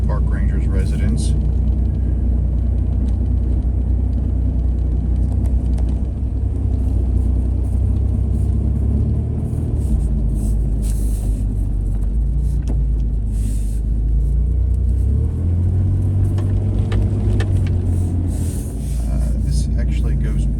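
A car cruises along a road in Montgomery Bell State Park near Dickson, Tennessee, its engine a steady low interior rumble beneath someone talking throughout.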